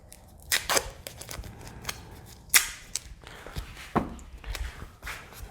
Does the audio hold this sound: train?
no